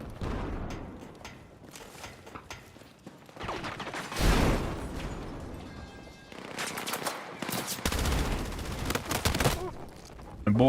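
Gunfire in the video game Battlefield 6, bursts of rapid automatic fire and heavier booms in uneven clusters, loud and close, with a player talking at points between the shots.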